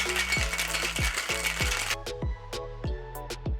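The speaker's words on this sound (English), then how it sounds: "We're gonna add some cubed ice to our mixing glass and give it a nice hard Coupe shake for about 12 to 15 seconds." A cocktail shaken hard with cubed ice in a tin, a close, steady rhythmic rattle of ice striking metal at roughly three beats per second, loud and with no voices.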